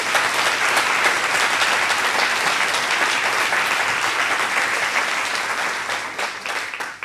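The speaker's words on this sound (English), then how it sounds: "Can we give them a round of applause" Sustained audience applause at a town hall meeting honoring veterans, a dense, steady wash of many hands clapping that holds loud throughout and thins slightly near the end.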